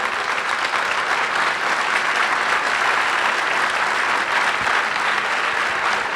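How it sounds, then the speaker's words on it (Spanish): A church congregation breaks into loud, sustained applause, dense and even throughout, with no one speaking over it. "aplaudan a Dios si quieren."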